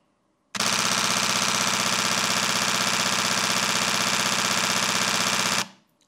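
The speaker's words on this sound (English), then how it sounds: "Then we are switching to high speed continuous shooting." A Canon 1DX Mark III firing in high-speed continuous mode, a loud, close, rapid and even burst of shutter clicks that runs without a break for about five seconds, then stops abruptly.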